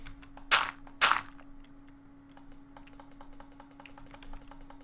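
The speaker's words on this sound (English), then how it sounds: "I am clicking furiously." Rapid mouse clicks, fast and close, in short irregular bursts during a Minecraft modpack session, with two louder thumps near the start and no talking.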